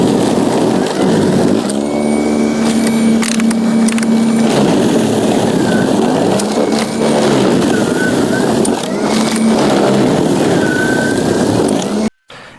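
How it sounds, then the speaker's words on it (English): Ryobi 40V battery snowblower chewing through heavy plowed roadside snow, a loud close motor whine that repeatedly bogs down and recovers in uneven surges, with scraping and crunching of snow, cutting off abruptly at the end. "the blower does have a little bit of a harder time with this snowplow section"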